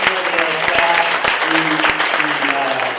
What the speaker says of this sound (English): please, can we give a nice round of applause for the